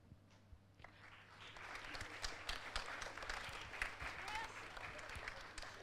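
An audience applauds school athletes, including youth basketball and under-14 football teams, at a recognition event. The clapping is dense and sustained, building to a steady wash of many hands that holds at moderate loudness throughout.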